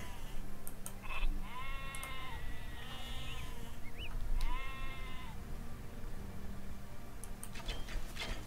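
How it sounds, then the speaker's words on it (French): Sheep in the strategy game Age of Empires 2 bleat several times, short wavering cries in two or three close pairs over quiet game ambience. "Deux moutons de plus, allez."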